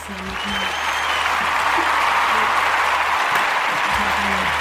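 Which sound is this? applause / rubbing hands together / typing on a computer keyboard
applause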